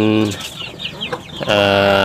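Indonesian native village chickens cluck close by, a harmonic hen call at the start and again at the end, with busier fowl chatter in between.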